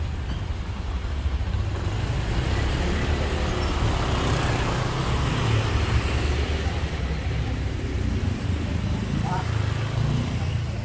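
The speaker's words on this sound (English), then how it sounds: "Cars coming, motorbikes." Cars and motorbikes roll past on a busy street in Bali, a steady near traffic rumble with engine whine rising and fading, and people talking over it.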